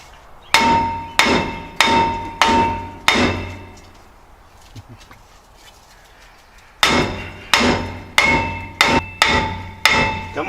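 Heavy blows from an engineer's hammer ring out against a truck's metal brake rotor in two bursts, about four strikes, a pause, then six more, each a loud clanging impact.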